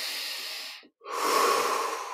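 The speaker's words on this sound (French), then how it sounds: "Encore 3 grandes respires." A long, deep breath is drawn in during guided meditation, cut by a brief silent pause, then followed by a fuller, airy exhale. The breathing is close and steady with no speech.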